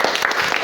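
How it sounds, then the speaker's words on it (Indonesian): Applause from a classroom group, a short burst of brisk, close hand clapping from several people, steady and fairly loud, cut off after under a second. "kita berikan aplaus untuk kelompok 1"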